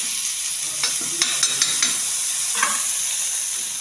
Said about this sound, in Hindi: फिर इसको स्लो आंच पर ही पकाना है। और थोड़ा सा घी डाल देती हूँ।